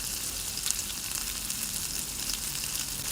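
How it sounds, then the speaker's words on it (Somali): Chopped onion and spices frying in a little oil in a pot, a dense, constant close-up sizzle with faint crackles and no voices. "waxaan ku soo shubay xoogo yar oo saliid waxa kale oo ku soo darsaday waa alxabo oo weyn oo basal si yar soo jaray"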